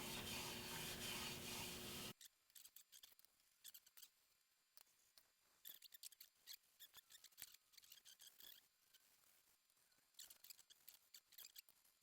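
A cloth rubs Rubio wood finish into a wooden surface, making quiet, close, repeated scrubbing strokes with short pauses between them, after a louder burst of noise at the start.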